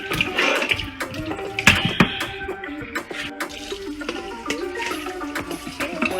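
Running water splashes and gurgles as oxtail meat is rinsed, with irregular clinks and knocks of the meat and a container, close and continuous.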